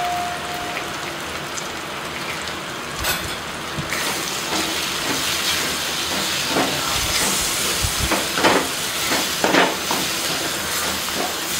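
Kashmiri chilli powder and pav bhaji masala sizzle loudly in a hot pan, a steady hiss with crackling spatters and occasional stirring clatter, close and continuous.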